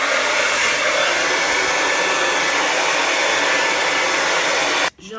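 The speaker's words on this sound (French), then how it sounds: "je sèche 2-3 secondes avec le sèche-cheveux" Handheld hair dryer blowing on ash blonde hair, a loud, steady, close-up roar that runs for about five seconds before switching off abruptly.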